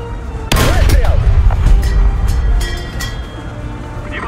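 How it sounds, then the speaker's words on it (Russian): A tank cannon in the War Thunder game fires one loud booming shot that rolls off into a long rumbling decay, followed by faint clinks and mechanical clatter. "Выстрел!"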